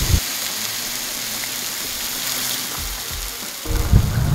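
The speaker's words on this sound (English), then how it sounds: "I got the griddle set on low heat so that we don't burn the fish" Fish fries in olive oil and butter on a Blackstone griddle set to low heat, a steady close hiss and sizzle throughout with a few soft thumps and a brief louder bubbling near the end.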